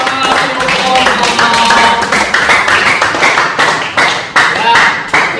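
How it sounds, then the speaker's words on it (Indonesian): An audience in a group-presentation session applauds Bapak Supomo with loud, close clapping that is dense at first, then thins into separate claps toward the end, with voices mixed in. "Tepuk tangan untuk Bapak Supomo."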